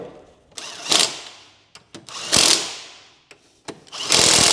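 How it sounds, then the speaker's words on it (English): A ratchet spanner turning a nut on VW Passat R36 suspension, bursts of rapid clicking in three loud runs separated by single sharp clicks and brief pauses, close and clear. "so I've got a ratchet spanner on that."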